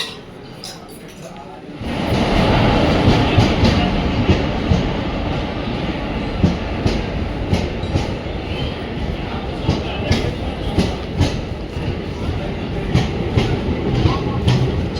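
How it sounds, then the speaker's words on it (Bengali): A train pulls into Kattu station with a loud, steady rumble and rhythmic clattering of wheels and metallic clinks, building from a quiet platform. Voices murmur faintly underneath. "ট্রেন এসে গেছে আমাদের, উঠবে বলে দাঁড়িয়ে আছে সবাই।"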